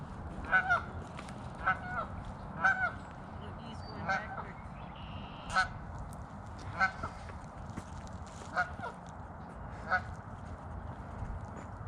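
Geese honk repeatedly beside a flooded river trail during the Grand River spring flood, calls recurring every second or so at moderate distance over steady rushing water and wind.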